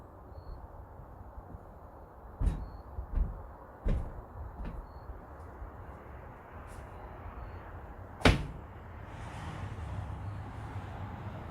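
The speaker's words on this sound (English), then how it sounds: "I'll go and open and close it for you." A creaky door being opened and closed: several sharp knocks and thuds spaced a second or so apart, then one hard bang, followed by a softer sustained rustle and faint background noise.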